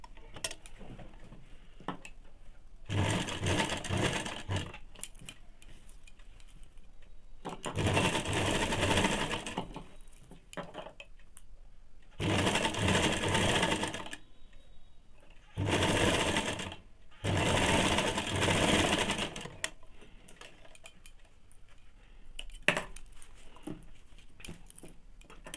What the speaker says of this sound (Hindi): वो वाला कपड़ा को इस प्रकार से रख के 1/2 इंच पे सिलाई कर लेंगे।